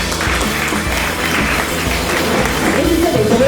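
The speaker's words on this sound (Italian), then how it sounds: "Una salva d'applauso." An audience applauds at a fashion pageant in a Padova villa, sustained loud clapping filling the room with a voice faintly emerging near the end.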